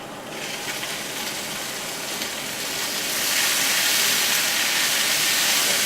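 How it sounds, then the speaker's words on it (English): Food sizzles in a hot pan during home cooking, a steady dense hiss that swells louder about halfway through and carries on alone without talk. "Sizzling."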